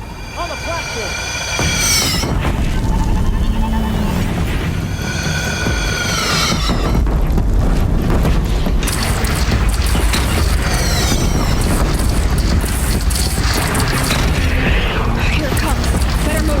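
Heavy booming cannon fire and explosions during a large battle in the Horizon Zero Dawn video game, a continuous loud rumbling din with whistling projectiles and game voices mixed in.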